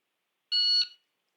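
A shot timer gives a single sharp, high electronic beep, about half a second long and loud against silence, signalling the start of a pistol drill.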